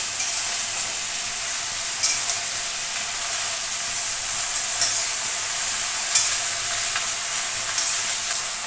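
Bottle gourd stems sizzle and fry steadily in a hot pan, with a few soft scrapes of stirring breaking through the constant hiss.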